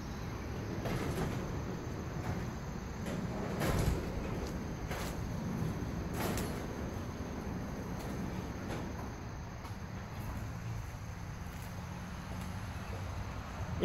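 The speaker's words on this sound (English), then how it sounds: "so let's open door number two" A garage door opening in a dad's garage, a long rolling rumble with repeated clacks and rattles as panels slide along their track, steady and close throughout with no speech.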